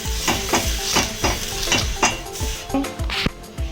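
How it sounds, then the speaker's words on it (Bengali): Water is sprinkled onto hot oil on a tawa, setting off a close, continuous sizzle. Regular scraping or wiping strokes of a utensil cut through it about twice a second. "তেল গরম হয়ে গেছে, এর মধ্যে একটু জল ছিটা দিতে হবে"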